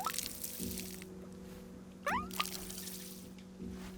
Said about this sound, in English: Now we can go water this thing again.